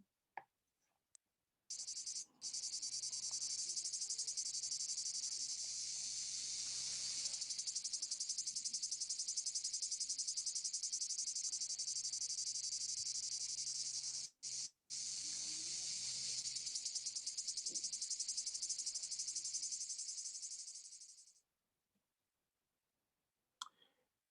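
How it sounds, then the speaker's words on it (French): Recorded Provence cicadas played back: a continuous high, buzzing drone held steadily for about twenty seconds, with a short break near the middle, quiet overall and with no talking. "un petit bruit de cigale"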